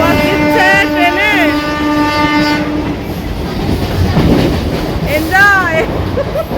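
A moving passenger train heard from inside a carriage on the way to Digha, with steady wheel rumble and clatter. Two long horn blasts sound near the start and a wavering horn cry comes later, with voices faintly beneath.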